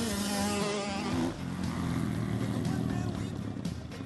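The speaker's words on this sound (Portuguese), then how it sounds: "o barulho imponente dos motores e uma grande arrancada dão uma demonstração do que está por" Motocross motorcycle engines roar together at a race start, a loud, dense, continuous mechanical drone that surges and then holds steady with no one speaking.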